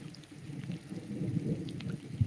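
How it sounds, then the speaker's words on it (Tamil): A continuous low wash of heavy monsoon rainfall with a deep rumble underneath and a few scattered sharper drops, steady and unbroken. "தெரியுதா மழை நல்லா இறங்கிடுச்சு"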